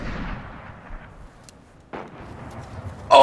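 A rocket explosion in the video game Destiny: a sharp burst near the two-second mark over steady game noise, followed by a louder crack at the end.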